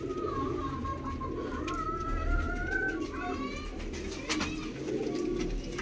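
Pigeons at a Faisalabad breeder's loft coo repeatedly, soft rolling calls rising and falling over a steady background hum, several birds overlapping at moderate distance.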